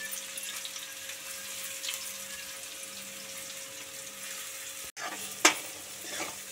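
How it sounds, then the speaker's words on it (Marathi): Onions dropped into hot oil for misal, a steady broad sizzle of frying throughout, with a brief dip and a sharp clatter near the end as they are stirred in the pan. "आता त्याच्यामध्ये मी कांदे टाकते आहे."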